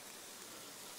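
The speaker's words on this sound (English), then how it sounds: "That little waterfall over there, which is the creek line that I've just followed." A small waterfall on a creek at a bush campground sends up a soft, steady rush of falling water, faint and distant with no voices.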